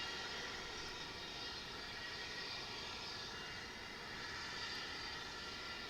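An airliner arriving from Austin passes over a runway at Dallas/Fort Worth airport, its jet engines making an unbroken, even roar with a thin high whine.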